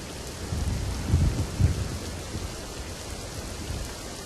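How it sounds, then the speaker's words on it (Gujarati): Heavy torrential rain pours steadily across Surat district in Gujarat during flooding, a dense continuous wash of noise with low rumbling swells near the start, no voices. "તો સુરત જિલ્લામાં અવિરત ધોધમાર વરસાદ છે"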